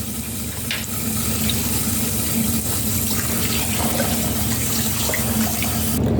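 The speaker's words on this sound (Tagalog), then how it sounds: "Hugasan natin yung ating baka." Beef being rinsed under a running kitchen tap, a steady broadband gush of water splashing into a sink, continuous and close for the whole stretch with no talking.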